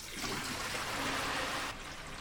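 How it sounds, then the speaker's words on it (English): Water from an opened pool main drain runs steadily toward the pump and sand filter, a continuous close rushing trickle that keeps an even level for about two seconds with no talk. "Here the water flows into the pump and filter."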